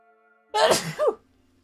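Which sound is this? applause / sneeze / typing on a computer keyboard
sneeze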